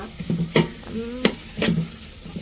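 Onions frying for a beef fry are stirred in a pan, with three or four sharp scraping strokes over a soft sizzle, close up, no talk.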